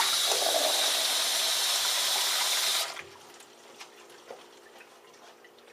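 Water gushes loudly from a tap for fresh rinse water for dirty Nike Air Max shoe insoles, a steady broadband rush that cuts off abruptly about halfway, leaving faint drips and quiet room tone.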